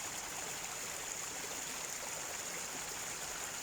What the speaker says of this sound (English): Like the water of this beautiful spring that I'm sat by.